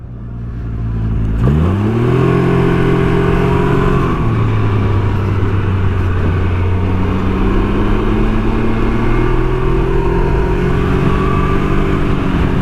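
A 2019 Can-Am Ryker three-wheeler is ridden hard, its engine loud and close, climbing in pitch as it revs and accelerates, then holding a steady, strong drone through a continuous run.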